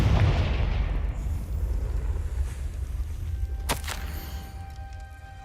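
A Confringo explosive spell blast in Hogwarts Legacy, a loud booming burst at the start that rumbles and fades over several seconds, followed by a sharp crack midway through.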